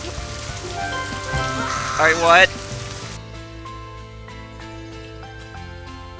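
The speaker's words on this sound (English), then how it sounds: "Rain cloud. And it's growing." Rain from a rain cloud in the video game Scribblenauts Unlimited patters steadily under background music, with a short burst of talk over it partway through.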